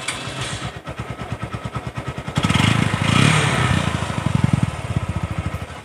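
A Yamaha YBR125 motorcycle fitted with an engine guard is started with its electric self-start and keeps running. Its close, steady thumping idle grows louder and fuller partway through.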